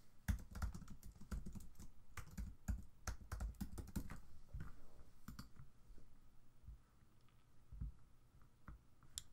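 A computer keyboard clicks as an email address is typed, with rapid uneven keystrokes in bursts, then sparser taps, soft and close in a quiet room with no talking.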